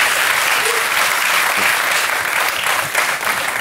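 A French TV studio audience breaks into sustained applause, a dense wash of clapping that fills the room steadily for several seconds with no talk over it.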